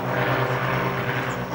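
A small single-engine propeller airplane flown solo on a round-the-world flight, its engine droning steadily and loud throughout with a constant low hum, no voices.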